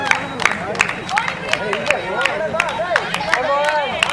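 Crowd at a race finish clapping and cheering runners in, with a steady babble of voices and sharp repeated hand claps close by.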